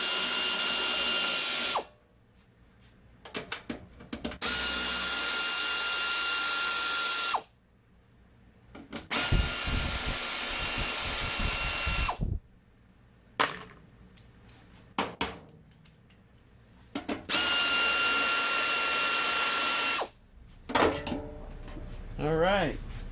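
Power tool removing 10mm bolts from the battery cover of a 2nd-generation Toyota Prius hybrid: four loud, close bursts of high whirring of a few seconds each, separated by brief clanks and handling noises.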